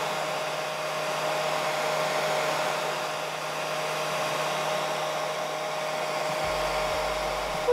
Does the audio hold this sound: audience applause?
no